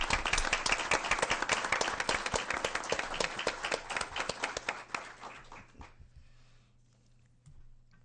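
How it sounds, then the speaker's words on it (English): Crisp applause at a school board work session, many hands clapping briskly for several seconds before fading to scattered claps and then near quiet with a low background hum. "Let's give a round of applause."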